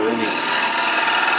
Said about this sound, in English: just to touch up with a round nose scraper